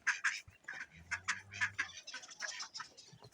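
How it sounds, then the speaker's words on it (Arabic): Chickens cluck outdoors on a rural countryside farm where ducks are also kept, in a run of short, close, moderately loud calls that carry on throughout with no talking. "شوفوا الدجيجات"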